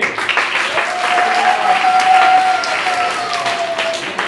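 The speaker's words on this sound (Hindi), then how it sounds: "तालियां इनके लिए" Schoolchildren at a charity event in a government school applaud a classmate, a dense, loud burst of crowd clapping with a faint tonal whistle-like sound running through the middle.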